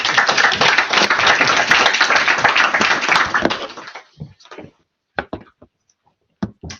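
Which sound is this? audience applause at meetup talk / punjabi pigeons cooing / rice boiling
audience applause at meetup talk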